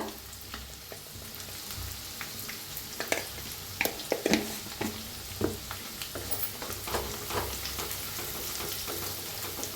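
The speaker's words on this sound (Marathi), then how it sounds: "हळदीला बी चांगलं भाजा" Ground dal and turmeric roasting in a pan give a continuous dry sizzle, with scattered scraping and stirring clicks over a steady hiss.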